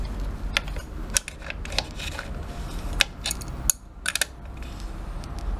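A wrench works a nut onto the rear wheel axle of a MyWay/Inokim scooter, giving a series of close metallic clicks, ticks and clanks over a low background hum.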